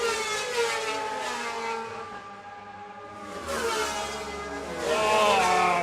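A Suzuki racing motorcycle engine screams at high revs at Bishopscourt, a loud continuous whine that fades slightly then surges again as the bike powers along in a race.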